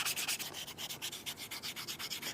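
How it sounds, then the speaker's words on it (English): Sandpaper of 220 grit rubbing along a beveled leather edge on a wrist cuff, a close, steady run of quick back-and-forth scratchy strokes with no voices. "I've got some 220 grit sandpaper here, and I'm just going to sand that exact same edge"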